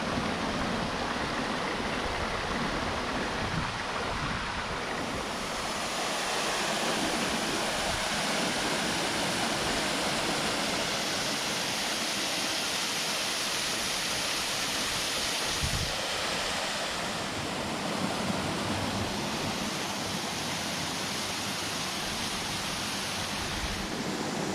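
One of the Luka waterfalls roars steadily in a rocky mountain gorge, a dense, unbroken rush of falling water that stays constant throughout with no voices.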